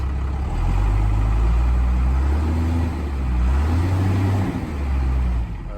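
Diesel engine of a hotshot car hauler truck runs after its injectors were bled, a loud, steady low rumble with slight roughness and gentle swells in revs, close up and alone without talk.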